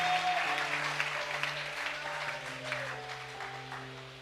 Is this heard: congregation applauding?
yes